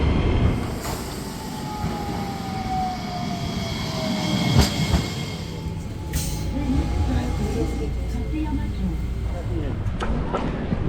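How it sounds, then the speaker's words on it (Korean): Riding a street tram in Matsuyama, Japan: a steady rumble of the car on its rails with clicks, a squeal and occasional knocks, close and continuous, while people talk over it. "여기 마치야마도 이렇게 노면 전차 다니더라고요. 노면 전차 타고 다음으로 이동해 보겠습니다."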